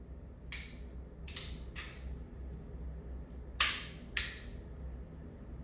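An Umarex Glock 17 Gen5 .43 caliber HPA pistol fires five sharp, close pops in quick irregular bursts, each a crisp snap over a low steady background hiss.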